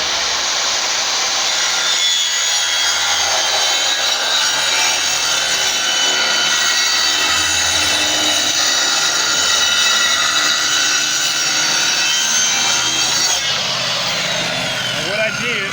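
A saw grinds continuously through a plastic barrel being cut for grow beds, a loud, rough, steady rasp that runs nearly the whole time, close and unbroken.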